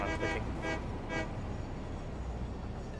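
Train horn in the factory-building game Satisfactory, three quick short honks in a row at the start, then only a steady dense machine-like drone.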